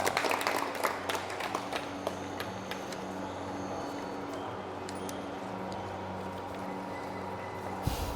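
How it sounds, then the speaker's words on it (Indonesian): Students in a lathe-machining class clap for a classmate's correct answer: a moderately quiet, steady patter of many hands over a low hum, with a slightly stronger burst at the start. "Kasih tepuk tangan."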